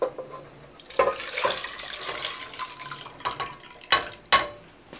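Soup ingredients, carrots and other chopped vegetables, are poured and scraped into a cooking pot in a home kitchen, producing a run of wet splashing and sloshing with a few sharper clatters near the end, close by with no talking.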